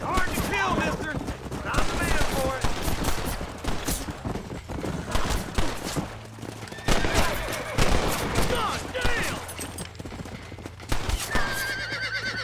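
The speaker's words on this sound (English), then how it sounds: "That's just my gun." Gunshots ring out in a Western-style open-world game amid neighing horses and clip-clopping hooves, with sharp bursts scattered through a busy, loud scene and a voice talking over parts of it.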